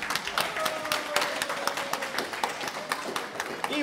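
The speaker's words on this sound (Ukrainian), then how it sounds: "Давайте ще раз оплесками привітаємо Сніжану." Wedding guests applaud for Snizhana, steady dense clapping from a crowd filling the room throughout, with some background murmur.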